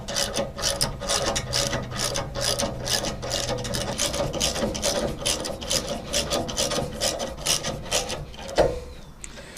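A screw is threaded by hand into a Woodland Mills PRO log support on a sawmill, giving a continuous close rasping, ratcheting metal-on-metal grind with rhythmic strokes that ends in a louder clunk near the finish.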